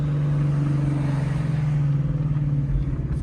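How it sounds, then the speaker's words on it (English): A Ford Mustang GT with a Borla exhaust and burble tune gives a loud, close, steady rumbling idle with a low throb and slight pulsing, without distinct pops showing. "There's the pops for you. That's that burble tune."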